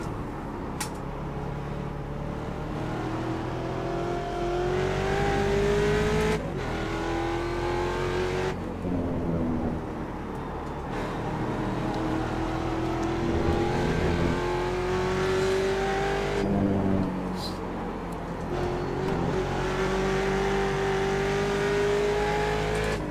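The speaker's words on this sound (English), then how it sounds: "I think I'm pressing the gas too much when I try to blip the throttle there." Mustang race car in the iRacing sim at Laguna Seca, engine droning and rising through gears with repeated throttle blips on downshifts, steady and loud throughout with no talking.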